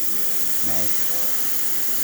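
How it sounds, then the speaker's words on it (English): Steady, loud hiss of steam venting from a La Pavoni Professional espresso machine with a leaking boiler, continuous throughout, with a faint voice briefly underneath. "it's a nice steam coming out of the machine, barely losing any pressure right there"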